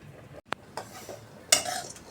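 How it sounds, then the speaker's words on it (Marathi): Dry fruits roasting in ghee in a pan, heard as a few sharp spoon clinks and scrapes against the metal over a faint sizzle, with quiet gaps between strokes. "ड्रायफ्रूट आपले छान असे तुपावर परतवून झालेले आहेत"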